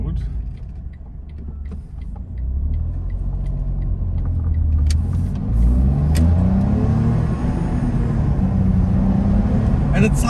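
Smart Fortwo small engine accelerating on a street, a moderate rumbling drone that rises in pitch through a couple of gear changes, fairly close and continuous with faint clicks over it.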